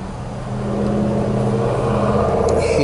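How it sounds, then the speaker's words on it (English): Car engine misfiring and running rough from a faulty crankshaft position sensor, a close, loud low rumble that rises after half a second and then holds with an uneven, lumpy idle. "it start misfiring a bit, running kind of rough"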